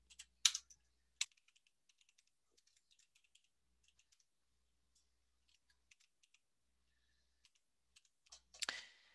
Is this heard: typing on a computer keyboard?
yes